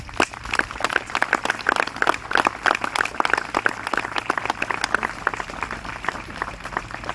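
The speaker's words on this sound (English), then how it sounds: "Let's give a round of applause for those who serve." Audience applause at a Memorial Day celebration in Moorpark, a steady wash of many hands clapping that runs throughout at even, moderate loudness with no talk over it.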